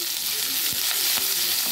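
Sliced onions and curry leaves frying in hot oil with turmeric, a steady loud sizzle with a few soft scrapes of stirring, no talking.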